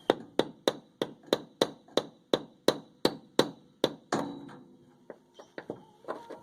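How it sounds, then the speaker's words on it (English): Hammer blows knock a rivet loose while working on a bus: about fourteen sharp, evenly spaced strikes ring out close and loud, then give way to a few scattered, lighter taps and scrapes. "I'm going to pop this rivet out, hopefully."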